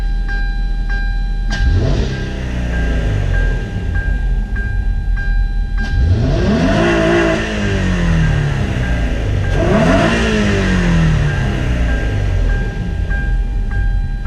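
A 2008 Hyundai Tiburon engine with an aftermarket intake revs hard several times, each rising roar falling away, with a steady background hum and scattered exhaust pops and crackles in between; no voices.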